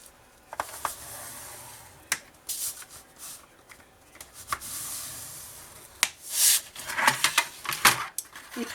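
Paper being folded and creased along scored lines for a three-section scrapbooking folio, with soft crinkles, sharp creasing snaps and sliding rustles in irregular close bursts, no talking.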